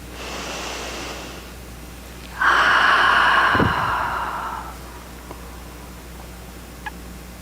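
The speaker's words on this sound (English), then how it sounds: "Let's breathe." A congregation at a Sunday service breathes together: a broad, airy group inhale and exhale swells for a couple of seconds, then fades, heard against quiet room noise.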